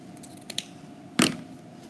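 Ribbon for a double bow trimmed with scissors: two light clicks, then one sharp, close snip of the blades in a quiet room.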